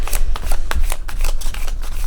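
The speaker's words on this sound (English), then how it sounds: "All right, we'll do one more shuffle and then I'll pick one" Tarot cards are shuffled repeatedly by hand, a loud, close run of rhythmic slaps and flutters with no voice.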